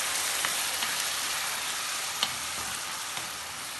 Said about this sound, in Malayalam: ഇനി വീണ്ടും 1-2 മിനിറ്റ് ഇളക്കി വഴറ്റാം